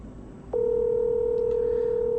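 A steady electronic telephone tone starts after a brief quiet moment and holds unbroken to the end, loud and close, as a call goes out and rings with no answer.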